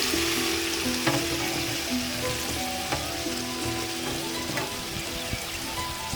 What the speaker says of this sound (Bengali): আমরা সাদা তেল দিয়ে বেরেস্তাটা করে নেব।